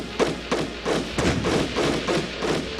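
Artillery support fire in a WWII Eastern Front strategy game on the Barbarossa campaign, heard as a rapid series of dull, heavy thuds and muffled blasts at an uneven rhythm, fairly close and with no talk.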